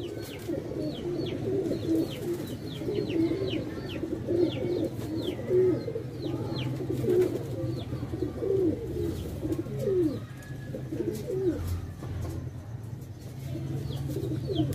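Pigeons from Sialkot cooing steadily and close by, a dense overlapping chorus of low rolling coos with faint chirps above and light background noise throughout.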